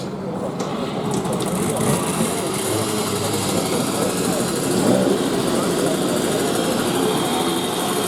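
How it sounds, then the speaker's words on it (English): Motorbikes leaving a classic car meeting in Oppenweiler, a continuous loud engine drone with revving and passing noise and outdoor crowd bustle, with steady background chatter under it. "Some people are leaving with their bikes, motorbikes."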